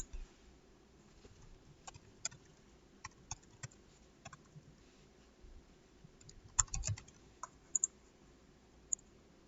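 Sparse, quiet clicks of a computer keyboard as an email address is typed during an online sign-up, isolated taps spread irregularly with a brief cluster of keystrokes near the end.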